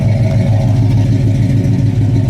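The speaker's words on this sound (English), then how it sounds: "Dual exhaust. It just sounds awesome and it looks nice." A 1965 Chevelle SS V8 rumbles through its dual exhaust, a loud, close, steady low throb with a slightly lumpy idle pulse and no talking.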